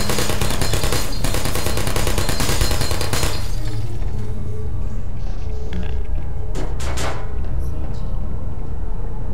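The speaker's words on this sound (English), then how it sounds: "I wish this guy would stop shooting at me." In the video game Portal, an enemy keeps shooting at the player: loud, dense rapid gunfire rattles continuously for about three seconds, then gives way to a noisy background with a few scattered sharp cracks.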